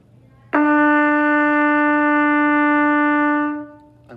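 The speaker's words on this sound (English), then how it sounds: "Here's your first note, 1 and 2, E." A single low trumpet note, E, held steadily for about three seconds, played close and clear before fading out, with no voices.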